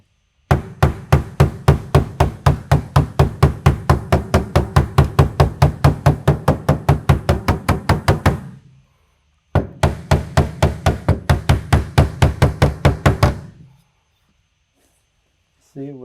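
A hammer taps out small dents in a car body panel with rapid, evenly spaced metallic strikes, a long run of about forty blows, a short pause, then another quick burst, loud and close.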